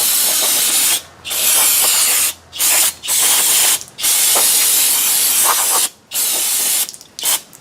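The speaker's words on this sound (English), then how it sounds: "now with a little brake clean." Brake cleaner sprays in long, loud hissing bursts onto the rear drum brake parts of a 1998 Toyota Camry, about eight blasts separated by short pauses.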